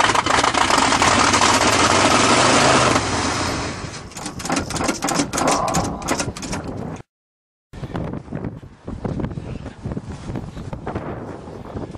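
A GMC truck engine runs rough right after a cold start, loud and steady with wind buffeting the microphone, then drops out briefly and picks back up unevenly.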